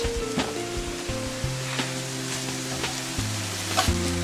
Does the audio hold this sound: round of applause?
no